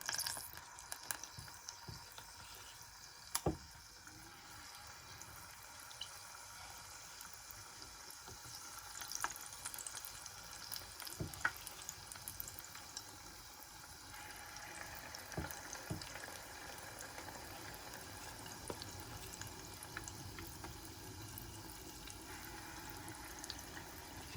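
Plantain fritter batter dropped by scoop into hot oil gives a soft, steady frying hiss with scattered small pops and crackles, fairly quiet and close, with no talking.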